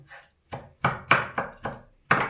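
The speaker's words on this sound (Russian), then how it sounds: "Просто немножечко так пройтись ножом." A knife chops tomatoes on a wooden board for pickling: seven distinct, evenly spaced thunks, close and fairly loud, with no talk.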